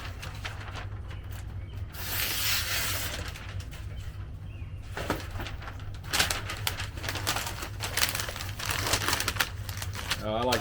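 Butcher paper crinkles and crumples as it is pulled off a roll and handled for wrapping a brisket, a busy run of close rustling with sharp tearing bursts and no talking.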